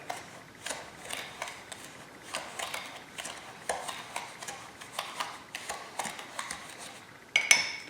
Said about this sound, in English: Okay, so I just stir that in, kind of distribute it, broadcast it over the strawberries